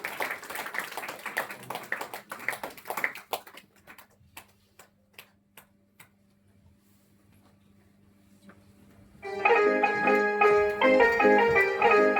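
Scattered audience clapping welcoming a speaker at a religious gathering, starting as a brief burst that thins to a few isolated claps, then quiet, before music enters loudly near the end.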